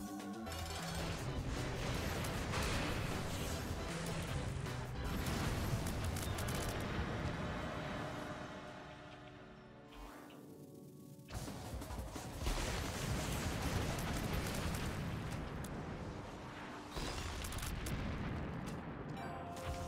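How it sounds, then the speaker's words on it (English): Dense, continuous explosions and booming blasts with crackling debris in The Binding of Isaac: Repentance, loud and nearly unbroken, with a brief lull midway before the barrage resumes. "There's just completely unnecessary explosions here."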